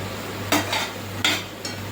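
Pav bhaji masala sizzling in oil in a pan, with two scrapes of a spoon stirring it over a steady low hum, close and fairly quiet.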